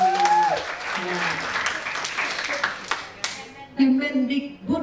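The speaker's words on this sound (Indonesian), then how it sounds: "tepuk tangan sekali lagi" Audience clapping at the closing of a Sundanese dance revitalization workshop, moderate applause with voices talking over it and some louder speech near the end.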